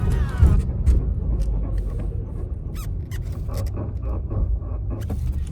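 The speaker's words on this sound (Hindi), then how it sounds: "गाड़ी पर जैसे ही हम ब्रेक प्रेस कर रहे हैं तुरंत साउंड आ जा रहे हैं" Car brakes squeal and grind as they are pressed during a road test, a faint rising squeak at the start, then rumbling road noise and scattered brief scraping squeaks from inside the moving car.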